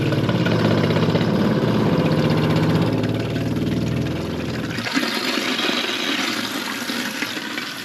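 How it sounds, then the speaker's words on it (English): Water rushes loudly into a toilet tank as the supply is turned back on after the internal parts were replaced, a steady hissing flow that eases and thins after a few seconds, with no talking. "Putting the water on."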